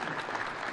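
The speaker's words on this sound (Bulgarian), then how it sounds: "Публиката го аплодира" A snooker audience at an exhibition match between Judd Trump and Jack Lisowski in Burgas, Bulgaria, gives a brief burst of steady clapping after a frame ball, moderately near and soft.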